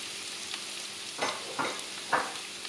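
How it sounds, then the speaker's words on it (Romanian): Onion, carrot and celery hit hot oil in a roomy frying pan, giving a steady sizzle with a few louder hissing surges as the vegetables are stirred; no one speaks. "Punem uleiul într-o tigaie încăpătoare și așteptăm să încingă. Apoi punem ceapa,"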